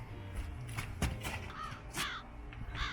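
Crows caw several times over a garden, harsh repeated calls at moderate distance against faint outdoor background noise, with no talking.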